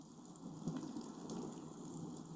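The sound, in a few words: rain sound effect on a book on tape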